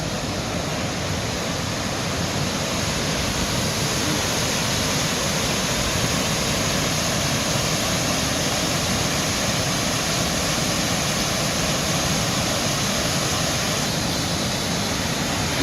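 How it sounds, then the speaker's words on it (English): Little River Canyon waterfall in Fort Payne, Alabama, flowing strongly: a loud, continuous roar of rushing and falling water, steady and unchanging throughout with no voices. "the falls are flowing good right now"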